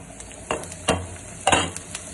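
Chicken shavige bath cooks in a pan, with a soft background hiss and a few distinct stirring scrapes and clacks at irregular intervals, close and fairly loud.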